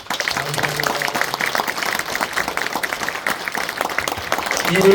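Audience clapping at a gathering after a stage performance by actors, a sustained moderate patter of many hands with a voice faintly audible near the end.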